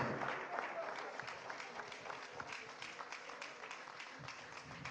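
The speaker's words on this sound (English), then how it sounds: "A round of applause for our president." Applause from an audience at a Nigerian PDP party media address, a steady wash of clapping throughout with speech-like crowd noise mixed in, moderately distant.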